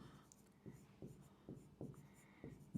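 Pen or pencil writing by hand on paper during a geometry lesson, with rhythmic strokes repeating about every half second, quiet and close.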